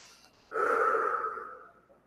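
A person draws one deep, audible breath during a guided relaxation session, a soft airy exhale swelling up and fading slowly over about a second and a half, close and alone in a quiet room.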